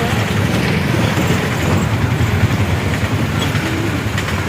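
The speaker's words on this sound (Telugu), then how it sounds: "వచ్చినప్పుడే ట్రైన్ వచ్చింది." A train rolls past close by, loud rumbling with a rapid rhythmic clatter of wheels on rails throughout.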